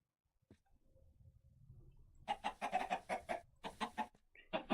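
Chickens in the video game Minecraft clucking, a quiet start then a rapid burst of several loud, close, choppy clucks in quick succession, alone without talk.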